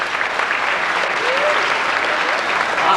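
A studio audience on a 1989 Universal Studios tour gives steady, dense applause for the actors. The clapping stays even and sustained for about three seconds.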